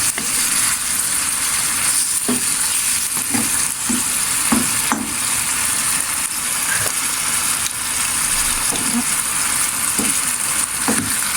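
A spaghetti-style dish made without ketchup sizzles steadily in a frying pan, a continuous loud hiss broken by occasional soft clinks and stirring taps.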